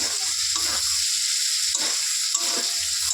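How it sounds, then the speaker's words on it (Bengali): An egg frying and being stirred with pasta in a pan gives a steady, close sizzle, with stirring scrapes coming in short bursts throughout. "ডিমটা দিয়ে কিন্তু আমি ভালো করে ভেজে নিচ্ছি"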